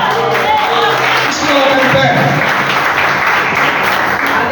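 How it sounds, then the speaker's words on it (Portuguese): A church congregation applauds loudly during a worship service, a dense, steady wash of clapping that stays strong for the whole stretch, with some voices mixed in. "Aplauda a gente bem forte"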